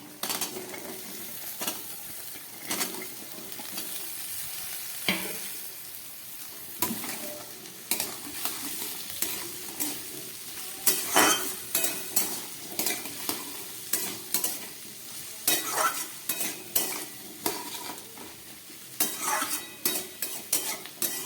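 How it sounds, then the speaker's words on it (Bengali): Potato and ivy gourd pieces fry in a pan while a spatula stirs them, a continuous sizzle broken by repeated scraping and clinking against the metal, close and clear with no talk. "আলু আর কুঁদরিটাকে আরও 2 মিনিটের মতো আমি খুব ভালো করে ভেজে নেব"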